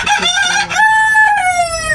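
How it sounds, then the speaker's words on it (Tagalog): A rooster crows loudly nearby, one drawn-out call rising then trailing off. "ang ingay ng manok ko"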